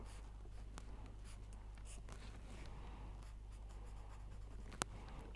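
A chemical formula is written on a board with a soft scratchy stroke-by-stroke rasp and one sharp tap near the end, set against a steady low electrical hum, with no talk.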